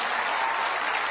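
Audience applause at a business leadership event, dense, steady clapping from many hands, even and fairly loud throughout the brief moment.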